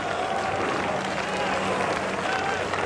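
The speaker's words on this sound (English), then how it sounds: "There's a groan from the crowd." A large crowd at a cricket Test match between New Zealand and India lets out a sustained groan, a broad, steady roar of many voices filling the whole moment with no single voice standing out.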